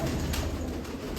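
Soft, low pigeon cooing runs steadily through the short clip, close by, with no voices.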